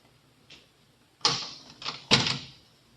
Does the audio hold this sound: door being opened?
yes